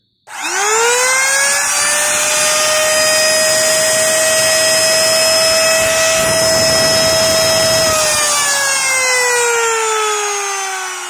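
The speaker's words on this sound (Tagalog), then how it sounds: "At try natin ngayong isaksak ang ating palm router." A Lotus palm router switched on, whining up to a loud, steady high-pitched electric motor tone that holds for several seconds before it is switched off and starts to wind down.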